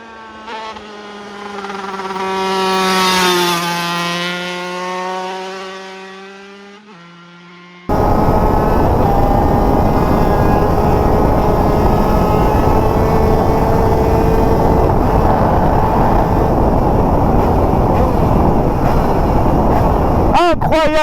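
A high-pitched 50cc motorbike engine screams at full throttle, swelling as it approaches and dropping in pitch as it passes, then a loud, constant broadband roar takes over for the rest.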